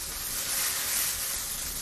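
Chicken pieces pan-fry for teriyaki chicken, giving a loud, continuous, close sizzle of hot oil that holds steady throughout with no talking.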